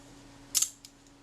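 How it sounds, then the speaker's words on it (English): Close, crisp mechanical snap of a Kodak Retina IIa shutter released at 1/25 second, a tight pair of clicks followed by a faint after-click, alone in a quiet room. "Let's try the shutter"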